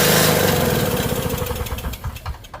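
A Yard Machines snowblower with a two-stroke Tecumseh engine fires up loudly, then settles into a rough, uneven idle with rapid pulsing putters that weaken and stutter toward the end.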